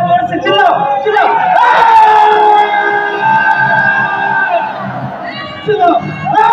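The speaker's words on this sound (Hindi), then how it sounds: "आवाज निकालो मुंह से, जितना जोर है वो समारोह में उतना जोर से चिल्लाओ" A large audience at a psychology seminar shouts loudly together on cue, a sustained roaring mass of voices with rising wails and whoops lasting several seconds before tapering off.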